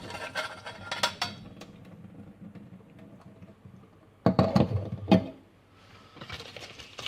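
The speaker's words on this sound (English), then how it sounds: "The potatoes are now cooked, so we will drain the potatoes." Cooked potatoes being drained from a kitchen pot, with clattering metal and pot handling and a bright splashing rush of water in two short bursts near the middle, then quieter rattling and a hiss at the end.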